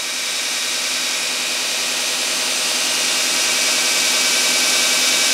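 A 2x72 belt grinder grinds half-inch steel plate with a loud, continuous, rushing roar that swells slightly louder toward the end, heard alone without voices.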